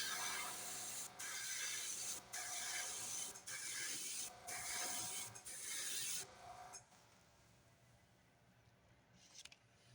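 Metallic silver paint sprayed onto a wooden glidebait: a close, steady hiss in several bursts separated by brief pauses, ending after a few seconds and leaving quiet room tone with a faint clink.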